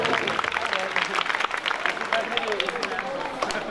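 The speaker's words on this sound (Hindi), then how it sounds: "सबके लिए एक बार फिर आखिर में भरपूर ताली के साथ शुक्रिया" Audience applause at the close of a Passion of Christ stage performance, a steady patter of many hands with voices talking over and through the clapping.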